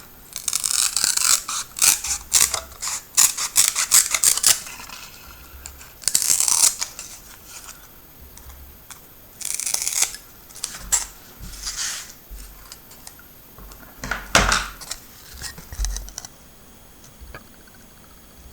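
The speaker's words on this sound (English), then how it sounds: "I'm going to take my scissors again and cut off the bits that I don't want to be printed" Scissors snip paper repeatedly at close range, quick clusters of crisp cuts separated by brief pauses, with no talking.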